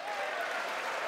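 Applause at a State of the Union address, a dense steady wash of clapping filling the whole moment, loud and sustained without pause.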